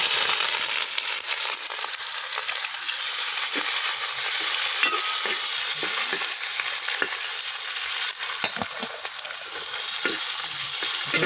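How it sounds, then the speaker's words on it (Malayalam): Sliced onions fry in hot oil in a pan while being stirred, a steady loud sizzle broken by repeated scraping and clinking of the spoon against the pan, with no voices. "നമുക്ക് സവാള ഇട്ട് കൊടുക്കാം."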